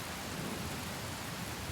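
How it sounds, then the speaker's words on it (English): Dense, steady roar of heavy rain pouring down in a storm, with a low rumble of thunder beneath. The noise is loud and uniform throughout, with no voices. "Then came a big storm with heavy rains pouring down."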